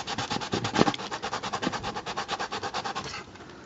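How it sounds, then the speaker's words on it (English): Sandpaper rubs a plastic Nerf Stryfe blaster part in quick, steady back-and-forth strokes, close and fairly loud with an even rhythm, tapering off near the end. "basically that's what I'm going to be doing for the next few minutes, is just sanding this all down"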